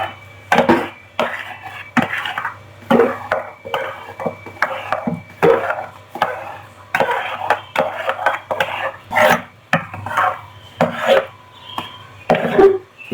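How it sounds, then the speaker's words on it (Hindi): A spoon scrapes and knocks against a pot while stirring a thick flour dough for falooda noodles, giving a repeated close rhythm of rubbing scrapes and clinks. "चम्मच को हिलाते रहना है वरना ये खराब हो जाएगा।"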